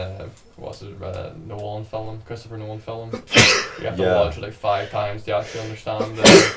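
A sudden sneeze bursts out in the middle of a casual movie podcast conversation, with a second sharp sneeze near the end as people keep talking.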